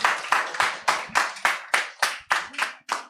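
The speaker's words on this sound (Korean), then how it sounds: "영광의 박수를 하나님께 올려드리도록 하겠습니다" A church congregation at an anniversary worship service claps in unison, about ten sharp, evenly spaced claps with a steady rhythm, fairly close and clear with no talk over them.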